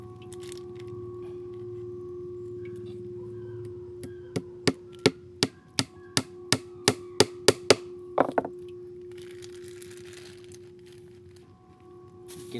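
A hammer drives nails into a snare drum under repair, giving about a dozen sharp, close taps that come faster and faster, then stop, over a steady humming tone.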